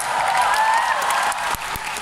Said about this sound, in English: So a round of applause to yourself.